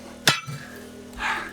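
A single sharp metallic strike of a metal bar on flint rock rings out, followed moments later by a softer scraping hit against the stone.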